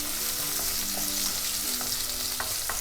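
Onions fry in oil in a pan with a steady close sizzle, joined by a few soft stirring scrapes and clicks, no voices.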